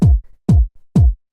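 Deep house kick drum, fat and soft with a rounded attack, hits three times in steady rhythm; small low thumps fill the gaps between hits.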